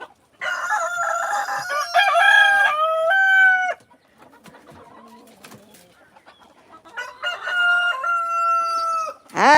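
A small chicken hen gives loud, drawn-out vocal calls close by, in two bursts separated by a quieter stretch of scattered faint sounds.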